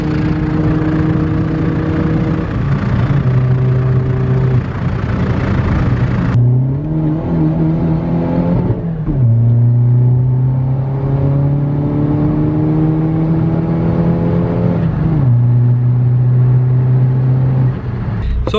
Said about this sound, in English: when you run more power out of like PD engines, the hard cut or popcorn sounds like really like, I mean, you'll agree, Alex, it sounds different